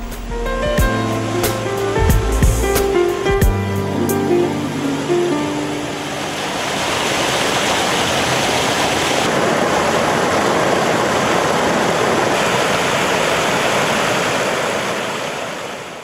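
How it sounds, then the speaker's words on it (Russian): Shypit waterfall, a three-tiered 12-metre cascade in a narrow, steep rocky gorge, roars as a steady, loud rush of water that fills the second half after a stretch of tonal music at the start. "Водопад Шипот представляет собой трехступенчатый каскад высотой 12 метров."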